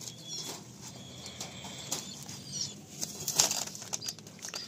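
Released pair of high-flying tournament pigeons, stamped panja birds, taking off with soft, rapid wing flapping and fluttering bursts against faint background noise, no talking.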